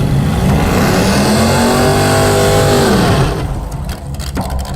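Engine of a Mazda mini truck drag build roaring at full, steady revs as it rolls off the starting line, loud and close, then the roar drops and gives way to scattered clicks and rattles.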